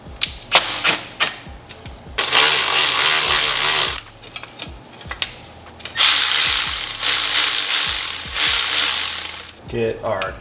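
Ratchet clicking in repeated bursts while tightening the timing belt pulley on a Subaru EJ25 SOHC engine, loud and close, with short pauses between strokes.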